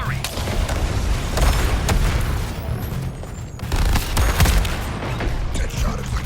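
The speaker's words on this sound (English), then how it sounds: "Move! Artillery!" Heavy artillery barrage in the Suicide Squad: Kill the Justice League video game, a loud continuous roar of booms and rapid blasts filling the whole stretch, with a brief dip midway before the shelling surges again.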